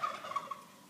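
Chickens clucking and squawking while being chased by a red wattle hog piglet, a short burst of close, fairly quiet fowl calls with no talking.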